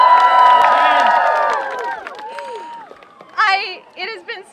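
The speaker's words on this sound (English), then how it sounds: "so everyone give him a round of applause" Crowd at an outdoor climate strike rally in Washington, DC cheers loudly with high shouts and whoops over clapping, the roar fading after a couple of seconds into scattered yells and a few renewed bursts of cheering.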